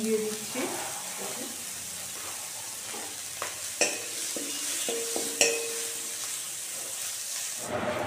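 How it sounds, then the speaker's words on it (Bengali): Chopped onions with salt sizzle and fry in a home kitchen pan while being stirred, with steady hiss broken by scraping and clinking utensil strokes throughout, close and fairly loud. "পেঁয়াজ ভাজানো হয়ে গেছে"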